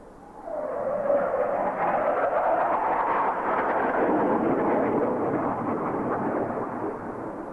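Blue Angels jets passing over show center at an air demonstration, a broad, loud roaring rush that swells in quickly and holds steady for several seconds before easing slightly, with no voices.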